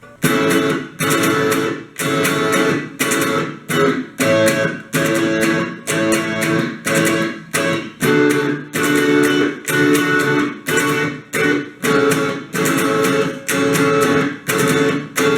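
A rhythm guitar drives a steady, loud strummed pattern for the whole stretch, chords hit in a regular pulse with short breaks between phrases.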